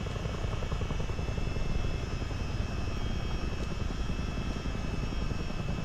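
In a multiplayer flight simulator, a Spitfire propeller plane flies past while a CH-47D helicopter's constant rotor and engine roar dominates. The drone stays dense and steady throughout, with no voices.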